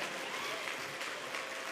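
Brief, faint wash of audience applause in a large hall at a convention opening ceremony, a distant, even patter of many hands.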